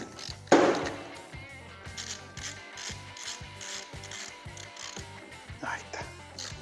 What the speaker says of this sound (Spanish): Y apretamos con la llave 17.